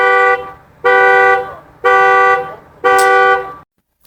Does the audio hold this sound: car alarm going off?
yes